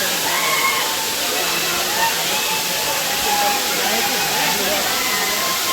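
Stream water rushing steadily downhill on a hillside near Wilson Hill, Dharampur, a constant broadband wash with gurgles and sloshes, close and continuous throughout, with faint voices mixed in.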